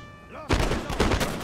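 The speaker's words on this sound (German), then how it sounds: "der erste Schuss von Infanterie auf andere Infanterie" Infantry units open fire on enemy infantry in a strategy video game: after a quiet moment, a sudden loud burst of overlapping gunshots erupts and keeps crackling, swelling again into a second dense volley.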